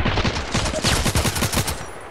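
Rapid bursts of gunfire from the shooter game Contract Wars, a fast string of sharp reports at a steady rhythm lasting about two seconds, loud and close with no talking.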